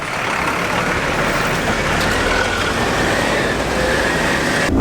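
A bus on a winding mountain road through tea country in Sri Lanka passes close by, its engine a loud, steady roar that fills the whole moment without any talk.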